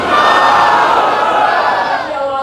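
A large crowd roars a religious slogan in unison in response to a call, a loud, sustained massed shout of many voices lasting a couple of seconds.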